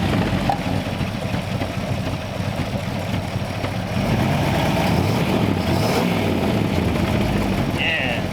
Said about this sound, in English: Love the blown out mufflers.